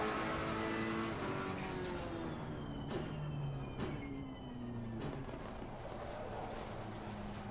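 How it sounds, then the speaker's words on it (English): Race car engines in the racing game Assetto Corsa Competizione, a continuous high-revving whine with repeated upshift cuts and pitch drops, heard alone at moderate level. "Car sounds in this game are amazing."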